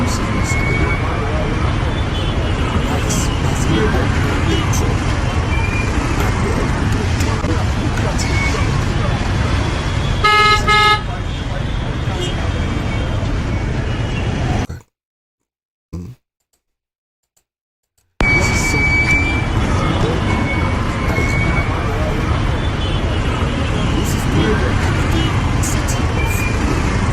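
Busy street traffic in Cameroon, with motorbikes and trucks rumbling past, a horn tooting midway and a brief dropout of near silence, under a steady, loud roar of engines and voices.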